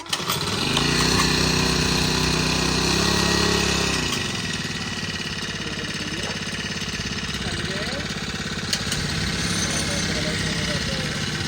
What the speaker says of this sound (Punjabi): ਇਹ ਉਹ ਵਿਕਾਸ ਦਾ ਪੰਪ ਹੈ ਕਲਸੀ ਦਾ ਹੈ ਉਹ ਤਾਂ ਨਵਾਂ ਪੰਪ ਹੈ